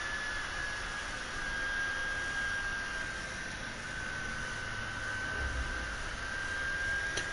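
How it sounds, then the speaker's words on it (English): Constant loud whooshing fan noise from overheating game consoles, a steady broadband roar like a jet engine with a faint high whine, unbroken and alone. "the background noise of the game consoles overheating is"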